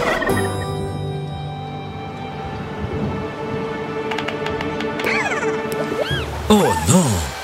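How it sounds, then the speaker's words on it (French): Cartoon turkey on a farm gobbles in rapid warbling bursts near the end, loud and close, over a bed of music with rumbling storm-like noise underneath and a voice talking at the start. "et des petits cochons et une dinde"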